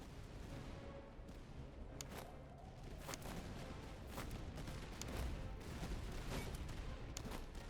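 Infantry volleys in the strategy game Master of Command: ragged musket fusillades crackle continuously at moderate distance, with sharper individual shots popping over a dense rumbling battle bed.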